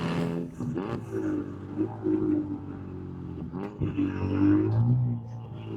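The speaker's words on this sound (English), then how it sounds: "hopefully we can hear me and not be overpowered by the sound of the car" Car driving along a dirt road, its engine rumbling low and steady with occasional rises, close and continuous beneath someone talking.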